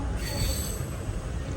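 A train at Shoranur Junction railway station in Kerala: steady, close rumble of railway cars with a high metallic squeal of wheels on rails running throughout.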